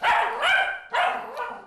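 An agitated pet dog tied up at home lets out two sharp, loud barks in quick succession, close by.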